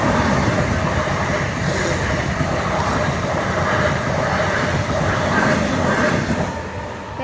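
Train passing a railway level crossing, a sustained loud rumble of wagons rolling by with rhythmic wheel clatter, fading slightly near the end.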